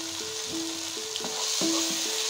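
Spice powders such as coriander, pepper and turmeric frying in a pan for Manjali biryani, a steady sizzle under a spoon stirring and scraping in regular strokes, with no talk.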